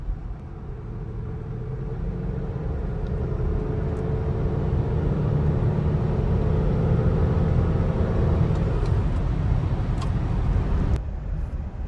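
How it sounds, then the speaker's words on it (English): Engine and road noise from a Cadillac SRX being driven, a steady loud drone with broadband tire rumble and faint rising tonal whine, continuous throughout with no talk. "I'm going to drive this a little bit more and see what it does"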